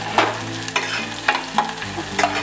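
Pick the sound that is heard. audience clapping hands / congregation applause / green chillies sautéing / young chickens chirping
green chillies sautéing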